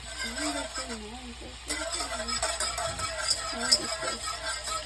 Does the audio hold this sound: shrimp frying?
yes